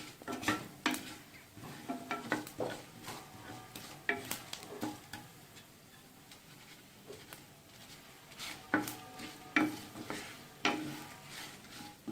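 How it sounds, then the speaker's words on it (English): Fenugreek and fennel seeds dry-roasting in a pan for a paneer ghee roast give faint, close scraping and tapping from stirring in irregular bursts over a soft background, with no talk. "as well as fenugreek seeds. Okay, let's roast them for about 2 to 3 minutes, just until the aroma comes."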